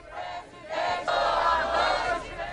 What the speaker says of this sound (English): Just outside his prison cell, supporters cheer Lula on.